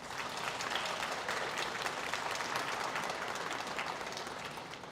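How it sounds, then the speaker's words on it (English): An audience at a public health school commencement ceremony breaks into steady, sustained applause, a dense wash of many hands clapping that holds evenly throughout. "Graduates, let's give our family and friends, our faculty, and our leadership a round of applause."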